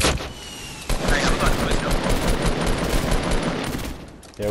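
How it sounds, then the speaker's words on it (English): Rapid automatic gunfire in a Fortnite match, with dense overlapping bursts of shots firing continuously and loudly throughout, with no clear pauses between them. "they shooting"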